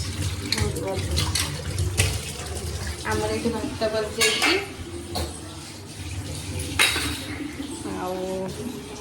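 Water runs from a tap with dishes and utensils clinking and scraping, while a person talks over the washing nearby.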